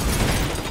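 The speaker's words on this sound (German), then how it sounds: "Explosion." A loud explosion in the video game Call of Duty Modern Warfare 2 Remastered: a dense, booming rumble heavy in the low end that holds steady through a brief burst.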